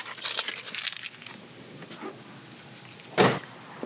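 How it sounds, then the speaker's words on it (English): Toyota Tacoma truck door handled near the microphone: faint rustling and clicks, then one short solid thud as the door shuts, alone with no talk. "So now shut the door, open the door"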